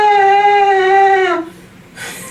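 Trumpet with its valves put in backwards, blowing a sustained, buzzy tone that wavers and then breaks off, followed by a brief breathy hiss.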